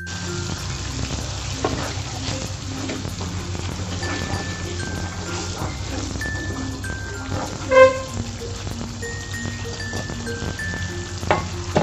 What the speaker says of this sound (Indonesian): Ini akan saya tumis sampai kadar airnya hilang.